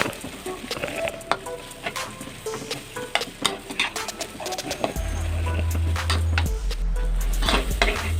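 Oil sizzles as food is stirred in a pan for a pumpkin and pork curry, scraping and clatter of a utensil, then a low steady hum joins the frying.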